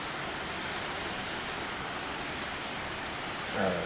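Steady evening rain pours at a village market stall, a continuous dense hiss close to the listener with no breaks, heard alone without voices.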